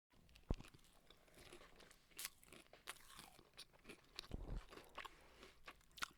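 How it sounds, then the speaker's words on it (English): Two people chewing and crunching crisp food close to the microphone, with irregular bites, crackles and rustles across the whole stretch and no talking. "I'm sure your fans are enjoying us chewing"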